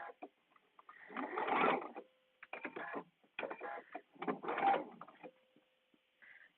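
A sewing machine runs in several bursts as it sews a dress seam, pivots and back stitches, with a close, rapid mechanical whirr that starts and stops with brief pauses between runs.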